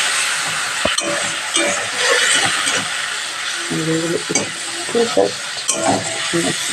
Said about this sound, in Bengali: দিয়ে দিচ্ছি নুন, হলুদ, লঙ্কা গুঁড়ো আর একটু মিষ্টি, তার সঙ্গে একটু অ্যাড করবো জল একটুখানি, যাতে মাছটা পুড়ে না যায়